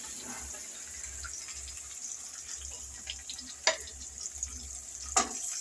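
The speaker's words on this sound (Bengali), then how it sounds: "এখন এই মাংসগুলো কড়াইয়ের ভিতরে দিয়ে দেবে।" Chicken marinated in yogurt with green chili, onion, ginger and garlic pastes goes into a hot wok, giving a quiet sizzle with two sharp scraping knocks from a utensil.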